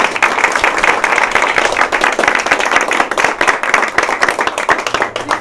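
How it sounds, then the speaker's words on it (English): Audience applause at a portrait dedication ceremony, loud and close, with sharp individual hand claps standing out in a lively, uneven patter that carries on for over five seconds. "one more round of applause"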